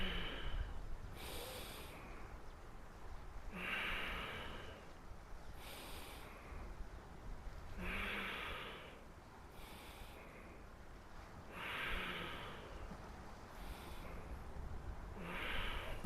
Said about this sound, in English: As you inhale, only we should push our belly out, and as you exhale, we should pull our belly in.